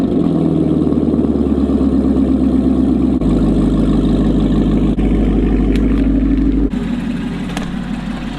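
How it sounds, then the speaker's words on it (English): A Chevrolet C7 Corvette idling after a cold start, a loud, steady low engine rumble with a few abrupt shifts in tone and a slight drop in level near the end, no talking. "this cold start's for you."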